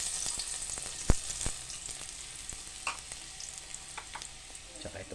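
Garlic frying in hot cooking oil for a beef-skin stew, a steady bright sizzle with occasional pops and clinks of a utensil against the pan.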